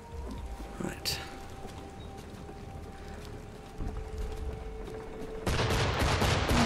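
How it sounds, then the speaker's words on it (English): Cannons fire during the Battle of Bunker Hill in Assassin's Creed III, with a distant boom early on, then a dense rattling barrage near the end over low murmuring ambience. "And the cannons are firing."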